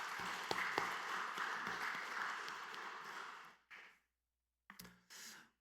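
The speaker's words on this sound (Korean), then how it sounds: "성숙교구 가족들을 위해서 축복하는 박수 하도록 하겠습니다." Church congregation clapping during an early-morning family prayer service, faint and distant, a fairly even patter that fades out after about three and a half seconds, followed by a couple of short, soft bursts.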